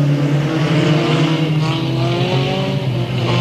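Race cars at Delta Speedway run close together in a pack, a loud, sustained layered engine drone with shifting pitches as they pass near.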